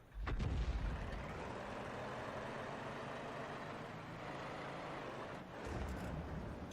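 A 155 mm tank gun fires in World of Tanks, opening with a loud booming blast that settles into a sustained rumble, followed by a second swell of engine and battle noise near the end.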